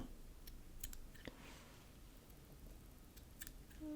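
Scissors make a few faint, quick snips while trimming the legs on a Hay Season Hopper fly, set against a soft, steady background hiss.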